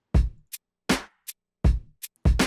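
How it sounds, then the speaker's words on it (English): Programmed one-bar drum loop from a music plug-in session, punchy kick and snare hits alternating with short crisp hi-hat ticks, repeating cleanly about three times against silence. "So I'm gonna go ahead and add some drums real quick."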